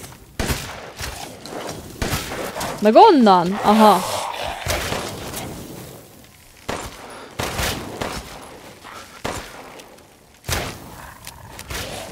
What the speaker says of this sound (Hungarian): onnan lövöldözik ez az ember